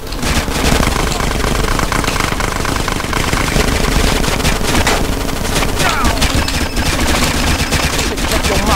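Gunfire in the GTA San Andreas video game, with dense, loud, rapid bursts of shots rattling continuously alongside an engine rumble in the background.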